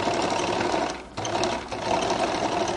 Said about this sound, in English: I sew it to meet where this line is